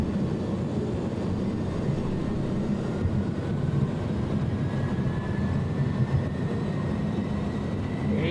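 Airbus A300 engines at takeoff thrust in the X-Plane 11 flight simulator, a steady loud low roar with a faint rising whine above it, continuous and unbroken throughout.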